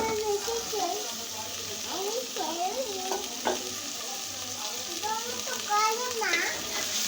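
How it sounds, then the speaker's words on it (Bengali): Chicken masala with tomatoes being sautéed and stirred in oil in a pan, a steady close sizzle with scraping stir strokes, and faint children's voices and chatter in the background. "তো এটা এখন কষানো হয়ে আসছে তেলগুলো উপরে উঠে আসছে"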